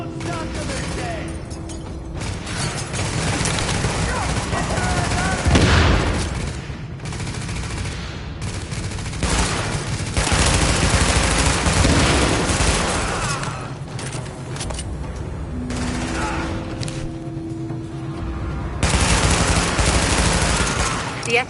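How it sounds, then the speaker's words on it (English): Heavy video-game gunfire in a rooftop firefight during an escort mission, with sustained bursts and explosive cracks filling the scene loudly and continuously, mixed with game voices and music. "The escort party's taking heavy fire from the roof."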